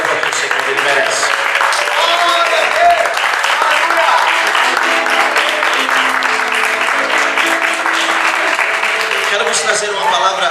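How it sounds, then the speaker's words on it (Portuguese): Sustained applause from a church congregation during a worship service, a thick, even wash of many hands clapping for several seconds, with voices mixed in underneath. "Pode aplaudir o Senhor."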